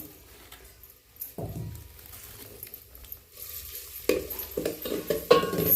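Crushed ginger, garlic, curry leaf and coriander paste hits hot oil in a pan, with a sudden burst of sizzling near the start, then steady frying crackle and scraping stirs growing louder toward the end, no voices.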